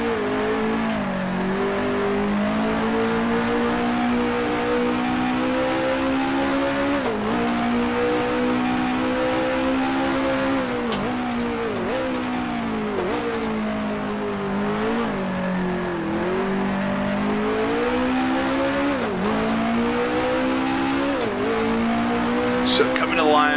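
Brabham BT11 Formula One race car engine from the Grand Prix Legends sim at the 1966 South African Grand Prix, droning loudly and steadily throughout with rising and falling pitch through gear changes and revs.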